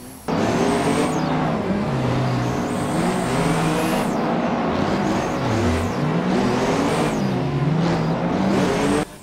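A slow drift car in the Assetto Corsa racing game revs loudly, its engine pitch rising and falling in repeated sweeps as it slides along, close and dominant with no talk.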